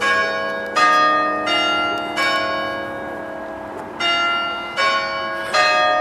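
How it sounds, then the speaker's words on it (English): Church bells at St James, Wath ring out at nine o'clock on a hot morning, a series of loud, resonant peals struck in uneven groups with long ringing decay between strikes, no voices. "The church's bells are just ringing."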